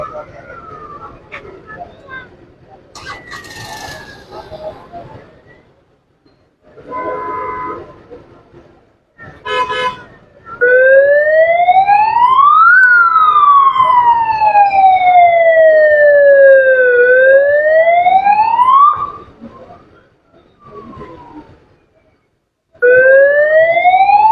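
A loud wailing ambulance siren sweeps up and down in long rising and falling tones during a blackout in Kurali, preceded by scattered talk and street noise, then cutting off and returning.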